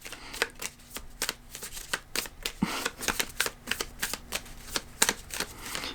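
A deck of tarot cards is shuffled by hand nearby, producing repeated crisp riffles and flicks in irregular bursts over several seconds, moderately loud, with no speech.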